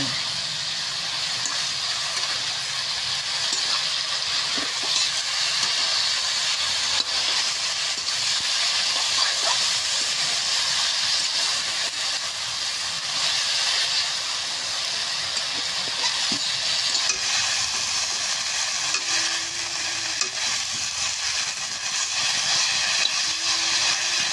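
Chal kumra greens sizzle and hiss steadily in a pan with salt and chili while being stirred, a continuous frying sound with faint scrapes and occasional soft talk.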